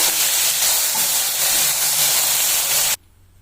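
Capsicum frying in a pan with oil, a loud, steady hiss of sizzling that holds for about three seconds, then cuts off abruptly into near silence.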